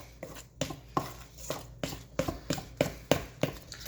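Brownie batter of flour and cocoa stirred by hand in a bowl, giving soft, rhythmic scraping and tapping strokes about three times a second, fairly quiet and with no talking.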